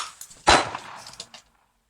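A gunshot sound effect, a single sharp loud bang with a bright metallic ring that decays over about a second, preceded by faint clicks.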